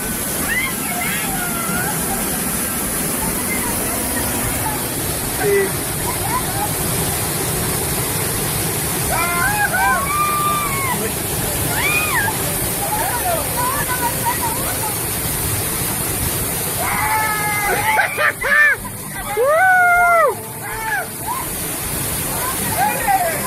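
The La Golondrina waterfalls in San Ignacio, Chalatenango, El Salvador pour with a loud, constant roar, while people's voices and calls rise intermittently over the rushing water.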